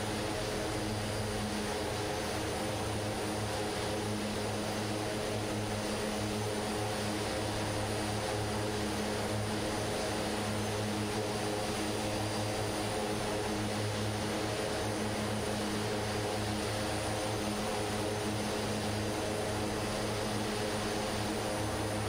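Steady, unbroken drone of the Aerosoft Twin Otter's propeller engines in a flight simulator game, a constant tonal hum with no change in pitch over a long stretch.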